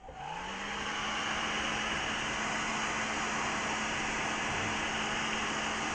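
A heat gun blows hot air to soften the screen adhesive on a Samsung Galaxy S3 during glass replacement, a steady, close hissing roar with a low hum that starts up and holds without pause.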